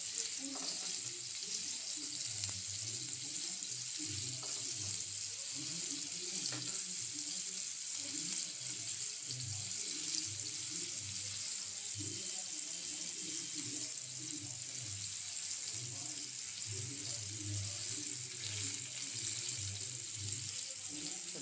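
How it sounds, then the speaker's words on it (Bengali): Marinated soya chaap pieces fry in hot oil with a steady, moderately quiet sizzle and dense crackle that never lets up, while low, muffled bubbling and a few soft clinks sit underneath. "এগুলো একটা একটা করে এই অয়েলের মধ্যে দিয়ে দিচ্ছি"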